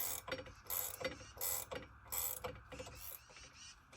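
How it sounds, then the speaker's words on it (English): Ratchet wrench tightening the clamp bolts on an Alaskan chainsaw mill, giving repeated bursts of close, crisp clicking in a steady back-and-forth rhythm with short pauses between strokes. "We're just going to use the wrench anyway, because this ratchet wrench is not bad at all."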